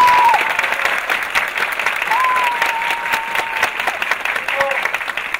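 An audience at a musical graduation performance of West Side Story applauds the production crew, steady loud clapping from a crowd filling the hall, with a voice faintly audible over it.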